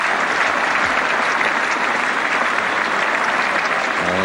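A cricket crowd at a Trent Bridge test match between England and West Indies in 1980 breaks into loud, sustained applause and cheering for a Boycott shot, a dense wash of clapping with no break.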